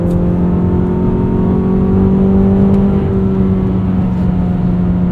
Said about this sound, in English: the rev matching is impeccable